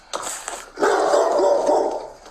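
A dog barks loudly and close: a short bark, then a longer drawn-out yelping bark with a whiny tone.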